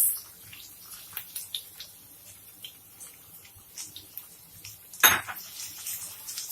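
Chopped onions and green chilies being sautéed in a pan for a pure-veg Lent recipe, with faint sizzling under light clinks and taps of a utensil against the pan and one louder scrape near the end.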